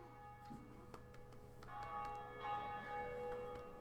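A bell tolls several times in the video game Dark Souls Remastered with a lingering ringing tone, fairly faint and distant over a low background hum, with no talking.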